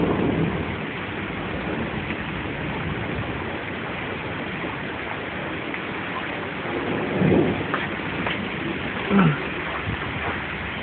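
Heavy thunderstorm with steady rain pouring down as a dense continuous hiss, with a couple of low rumbles of thunder swelling briefly near the end.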